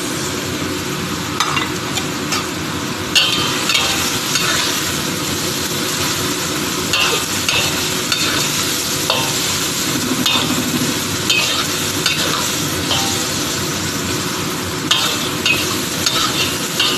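An onion mix is stir-fried with squid, making a loud, dense, continuous sizzle with constant stirring and occasional scraping knocks of the utensil against the pan throughout.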